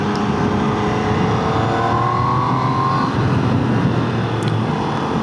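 A Triumph Trident 800 motorcycle runs with its exhaust steadily droning and rising in a gentle rev. The sound is close and continuous, with no talk.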